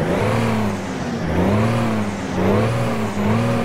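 The diesel engine of a Kenworth T800 truck with an 18-speed gearbox idles steadily and loudly close by, its low rumble gently rising and falling.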